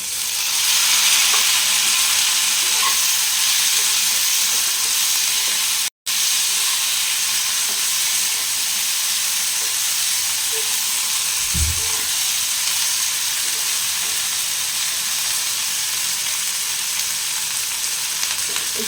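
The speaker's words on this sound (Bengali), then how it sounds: "এরপরে আমি টমেটো যেটা কেটে রেখেছিলাম সেইটাই দিয়ে দিচ্ছি" Chopped tomatoes hit a frying pan of hot oil for a small-fish curry, producing a continuous loud sizzle and hiss with occasional stirring knocks, cut by one brief silent gap.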